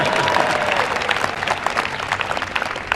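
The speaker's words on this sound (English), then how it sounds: "That's worth applause too." Dense applause from a large audience at a presidential speech, loud and continuous crowd clapping filling the short stretch with no talking.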